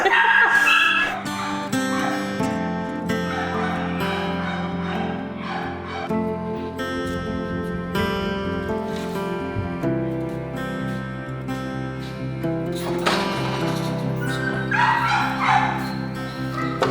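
Dogs at a horse shelter bark and whimper in a mix of yips and short barks, fairly close, over a steady background with some low noise.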